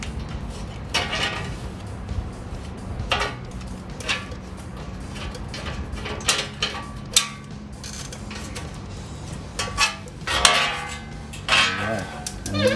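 Metal clunks and scraping as a Toyota Tacoma front hub assembly with its bearing and dust cover is worked free of the steering knuckle, with irregular knocks and rattles standing out over a low steady hum.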